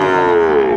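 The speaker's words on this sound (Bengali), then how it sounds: "ষাঁড় বাচ্চা" A Friesian-cross bull calf at a livestock market gives one loud, close, sustained moo that slowly falls in pitch and fills the whole moment, with no talk over it.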